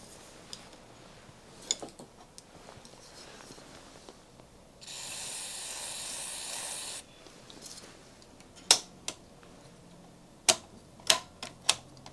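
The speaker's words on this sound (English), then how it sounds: "I'm going to spray" Contact cleaner sprayed into the switches of an old Philips Australia audio set: one steady hissing burst of about two seconds, close and fairly loud, surrounded by small clicks and taps of handling, with sharper knocks afterward.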